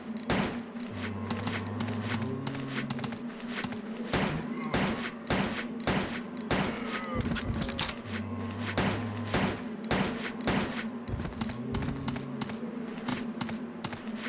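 Gunshots in Resident Evil Code: Veronica X ring out in a dense, steady string of sharp reports over a low droning game soundtrack, continuing throughout at close range.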